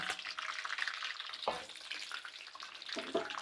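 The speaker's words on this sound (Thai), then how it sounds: "มาดูการทอดรอบสองนะคะน้ำมันร้อนแล้วค่ะ" Pork rinds deep-frying in hot oil on their second round, a dense steady sizzle and crackle with occasional stirring scrapes, close and continuous.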